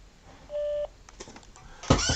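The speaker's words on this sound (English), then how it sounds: "Please leave a message after the tone." A single steady electronic answering machine beep, clear and moderately loud, holds for about a third of a second, followed by faint clicks and a burst of noise.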